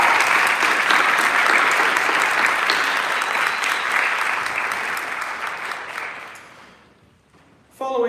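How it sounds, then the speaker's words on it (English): A college theatre audience gives sustained, loud applause for an a cappella group. The dense clapping fades gradually toward the end before a sudden new burst of sound, and no one speaks over it. "Can we get another round of applause for that group?"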